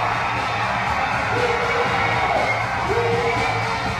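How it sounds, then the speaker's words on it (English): Young crowd at a Youth Olympics announcement event screaming, whooping and cheering in a sustained, dense roar, heard from within the crowd with scattered higher shouts rising above it. "you just see how the kids, the youth that day were screaming"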